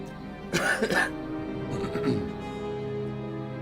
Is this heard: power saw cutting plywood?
no